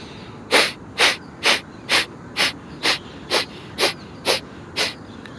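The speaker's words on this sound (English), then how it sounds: "So the first thing that we want is Kapalbhati, to clear the nostrils, the mind and the lungs." Kapalbhati pranayama breathing: ten sharp, forceful nasal exhalations at a steady rhythm of about two per second, loud and close, with no talking.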